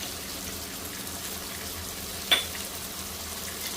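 Turmeric, chili and coriander powders are stirred into a frying clam curry in a pan. A soft, even sizzle continues close by, broken by a single short click partway through.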